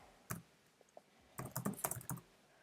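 Code being typed on a computer keyboard: a few isolated clicks, then a quick burst of rapid close keystrokes, soft and alone with no talking.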